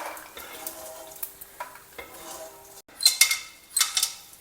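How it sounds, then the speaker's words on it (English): A metal utensil clinks and scrapes against a pan while fried gond is drained from hot ghee, producing light irregular taps and a few sharper clatters near the end. "Now drain out this batch from the ghee and keep it aside."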